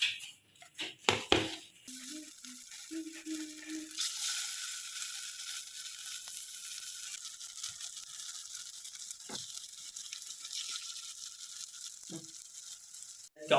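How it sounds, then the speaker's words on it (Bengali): Square-cut pieces of dhoka, a lentil cake, fry in oil in a home kitchen. A few clattering handling sounds come first, then a soft, steady sizzle hisses quietly in the background. "এবার এগুলোকে ভেজে নেওয়ার পালা।"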